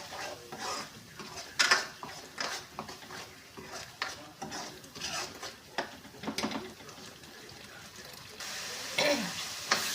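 Onions frying in oil with salt in a pan, stirred with a spoon: irregular scraping and clatter over a low sizzle, close and moderately loud, with occasional faint background noises.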